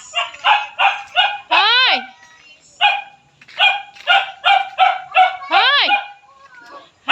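A dog barks repeatedly at a chicken in quick yappy bursts, close and loud, with a couple of rising whiny yelps, while a person calls out between the barks.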